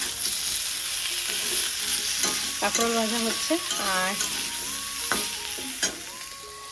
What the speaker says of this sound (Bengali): তার সাথে এদিকে হচ্ছে কাঁকরোল ভাজা